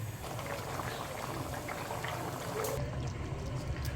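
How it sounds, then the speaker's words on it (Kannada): Mixed vegetable kurma with potatoes simmering in a covered pot, a steady close bubbling and faint liquid churn running throughout, with a brief clatter near the end as the sound shifts. "2 ನಿಮಿಷ ಕುದಿಲಿದು."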